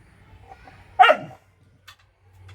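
A single sharp dog bark, loud and close, with a brief yelping fall at the end, then quiet room noise.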